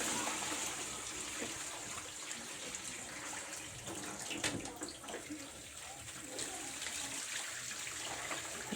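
Running water splashes and gurgles steadily as sardines are rinsed in a basin, with occasional sloshing in the middle.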